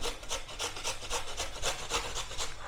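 Hard beetroot is grated by hand for pav bhaji, about ten evenly spaced rasping strokes scraping close and clear, with no talking.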